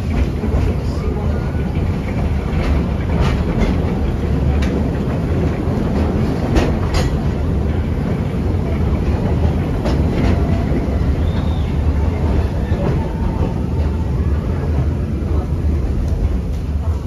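The Walt Disney World Railroad train at Magic Kingdom rumbles continuously along the track with a steady low roar and scattered rhythmic clacks, loud and close, while a narrator talks over it.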